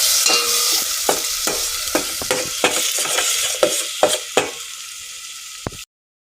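Onion and garlic paste being stirred in a pan for rasam: a steady frying sizzle with a series of distinct scraping spoon strokes, some sharper than others, close and fairly loud before cutting off abruptly.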